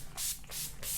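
Urban Decay All Nighter makeup setting spray is spritzed over a face in three quick bursts, each a close, airy hiss with brief gaps between them.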